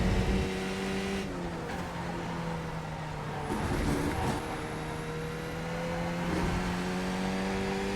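Race car engine held on throttle in a sim racing game at Virginia International Raceway, a steady loud drone with slowly shifting pitch through a corner and brief dips around gear changes, no speech.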